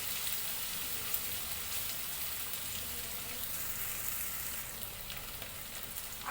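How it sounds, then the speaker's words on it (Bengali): Paneer cubes fry in hot oil in a kadai, making a soft, even crackling sizzle that runs throughout at low level, with a small knock near the end. "খুব আস্তে আস্তে পনিরগুলোকে ভাজতে হবে যাতে ভেঙে না যায়।"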